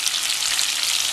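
Meatballs fry with garlic in a hot pan, giving a loud, close, steady hissing sizzle throughout with no speech.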